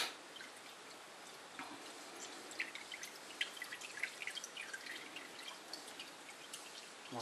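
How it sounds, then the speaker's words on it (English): Motor oil from a 2011 Honda Civic drains into the oil pan as a faint, steady trickle with scattered soft drips, heard alone and close. "let the oil drain back in the oil pan"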